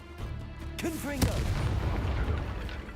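A Confringo fire-blast spell bursts in the Hogwarts Legacy video game with one sharp boom. The crackling, rumbling aftermath sits under a voice that speaks just before the blast.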